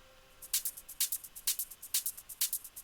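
A hi-hat loop sample from a progressive house track plays on its own, a steady run of about a dozen crisp, bright, hissy hits in an even, driving rhythm with slight accents.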